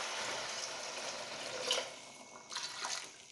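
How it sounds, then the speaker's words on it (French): Water pours into a pot holding a pork roast as a steady close splashing stream that briefly dips and then resumes, moderately quiet, with no talking. "Mais moi je vais mettre que de l'eau là."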